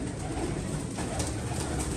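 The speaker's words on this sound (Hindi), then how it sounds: "मेरा बहुत प्यारा यार मस्कुलर कबूतर है ये" A muscular pet pigeon cooing close by, soft low throaty coos over a steady background hum, with no talking.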